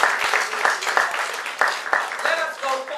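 Applause at a political press conference for the Reuniting Families Act fills the room as a steady wash of clapping from a crowd, mixed with voices and cheers, lasting throughout.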